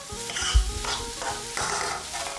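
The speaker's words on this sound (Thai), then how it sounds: "จากนั้นก็ผัดจนต้นหอมโดนความร้อนสักครู่หนึ่งครับ" Fried rice with cut green onions sizzles in a hot pan while a spatula scrapes and tosses it in quick, repeated stir-fry strokes, close and fairly loud.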